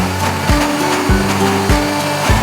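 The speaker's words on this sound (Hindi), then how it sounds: "अब दोबारा से इसको ग्राइंड करेंगे।" A mixer grinder blends a mint margarita with ice, giving a loud continuous whirring motor drone with brief pulses roughly every half second as the jar contents churn, with no voices.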